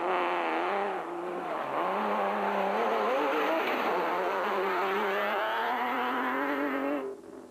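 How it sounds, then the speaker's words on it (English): A modified V8 hardbody off-road race truck engine roars hard and continuously at high revs during a Sun City 400 race, its pitch rising and falling with throttle changes, loud and close throughout before dropping off at the end. "Cox is reveling in the power of the modified hardbody, and his enthusiasm shows as he gives it full rein."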